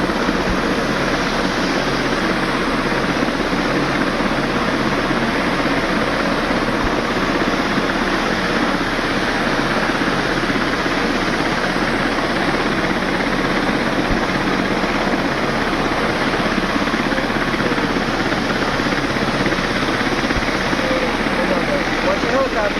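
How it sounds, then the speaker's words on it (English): A Life Flight medical helicopter departs from a medical center in Dubois, Pennsylvania, its steady rotor and engine roar loud and continuous throughout, with voices faintly mixed in. "Watch the helicopter."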